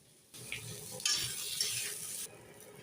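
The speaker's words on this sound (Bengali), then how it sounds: "এই যে আলু ভেজে নিচ্ছি ভালো করে।" Potatoes being stirred and fried in a pan in a home kitchen, heard as soft sizzling that swells into louder bursts of scraping and spattering, then drops back to quiet near the end.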